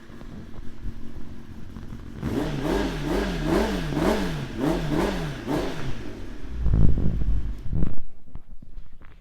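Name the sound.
Kawasaki ZX10R motorcycle engine starting and revving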